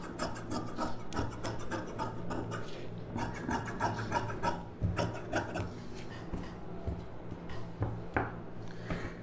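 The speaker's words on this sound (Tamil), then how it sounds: "இப்போ வந்து இந்த ஷேப்புக்கு அப்படியே கட் பண்ணிவிடுங்க." Scissors cutting fabric for the back piece of a sleeve, a steady run of close, rasping snips and rubbing strokes without pause.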